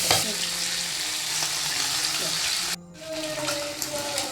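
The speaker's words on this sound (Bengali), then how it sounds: "তেল গরম হয়ে গেছে, মাছগুলো দিয়ে দিচ্ছি।" Fish fry in hot oil in a wok with a loud, steady sizzle and a brief dip before the crackling resumes.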